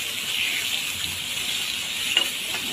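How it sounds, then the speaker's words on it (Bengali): Chopped onions, tomatoes, garlic and green chillies fry in a pan with a soft, steady sizzle and a faint clink of stirring near the end. "এখন আমি একটু হালকা একটু ভেজে নিয়ে দেবো, মশলার গন্ধটা এবং চলে যায়।"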